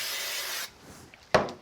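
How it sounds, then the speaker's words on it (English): Spray glue from an aerosol can hisses onto the back of a kraft card piece in a short steady burst that cuts off abruptly, followed by a quiet pause and a brief handling rustle. "I'm going to use some spray glue on the back of this, and I'll just nip under here and give it a quick spray"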